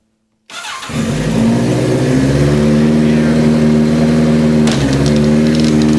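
A 1983 Kawasaki GPZ1100 motorcycle engine cranks and fires up after a silent start, settling into a loud, steady idle with a strong low rumble and a brief blip midway.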